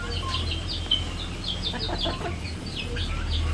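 Turkeys gobbling and clucking in a backyard poultry yard alongside chickens and ducks, a run of short, repeated calls at moderate distance over steady low background hum, with no one talking.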